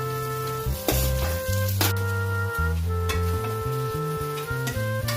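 Onion added to hot oil with ginger-garlic paste while making pav bhaji, a close steady sizzle with clattering stirring strokes, music playing underneath.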